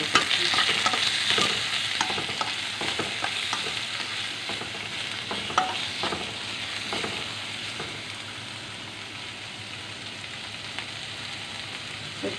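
Onions and green chillies fry in a pan while being stirred, giving a steady close sizzle broken by repeated scraping stirs that gradually ease off, with no talking.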